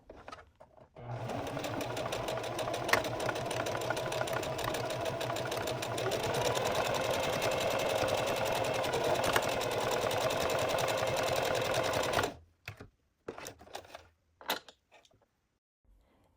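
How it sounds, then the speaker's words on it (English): A sewing machine stitches a test buttonhole, running in a fast, even mechanical whir for about eleven seconds, close up, then stopping, followed by a few scattered clicks and knocks. "Check your manual if you need to make buttonhole adjustments. I'm doing another test run."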